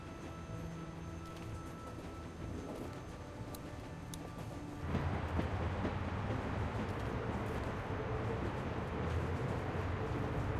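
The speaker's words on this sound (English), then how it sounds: "We need to stop this train." A train approaches in The Walking Dead video game, a steady low rumble and rattle that swells suddenly louder about halfway through and stays loud and dense to the end, with no talking.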